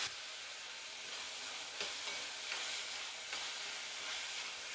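Tomatoes with a pinch of salt fry in a pan for a ridge gourd curry, giving a faint, even sizzling hiss that barely varies across the moment, with no voices.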